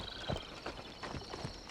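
Horse hooves moving in Assassin's Creed Shadows, a few soft, uneven clip-clop steps at a quiet level, close by and unaccompanied by talk.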